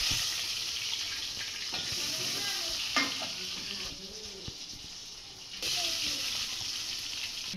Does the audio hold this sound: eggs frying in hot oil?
yes